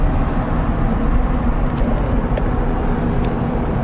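A 1965 Porsche 356C drives along a road, its steady engine and road rumble continuous and close throughout, with no talking.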